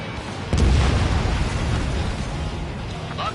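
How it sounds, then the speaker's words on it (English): A missile fires from a fighter jet in a video game: a sudden loud blast erupts half a second in, then a heavy roar that slowly fades, with faint beeping tones near the end. "Missile launched."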